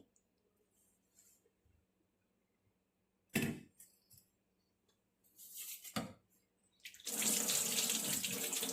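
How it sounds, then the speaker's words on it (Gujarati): Toor dal gets a final rinse under running tap water: a few short splashing bursts in near silence, then a loud continuous stream of flowing water to the end, with no talk. "છેલ્લી વાર ધોઈ નાખીએ આપણે તુવેરની દાળને"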